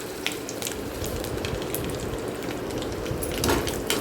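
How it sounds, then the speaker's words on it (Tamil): Sun-dried buttermilk chillies fry in hot oil with a continuous crackling sizzle, like light rain, with sharper pops scattered through it and a slight swell near the end. "இந்த மோர் வத்தல்லாம் கொஞ்சம் கருக வறுக்கிறது தான் நல்லாயிருக்கும்"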